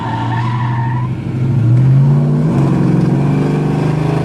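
American muscle cars, a 1967 Fastback and a 1968 Charger with big engines, rev and accelerate hard, a loud rising engine roar with a tire squeal, climbing in pitch as they pull away.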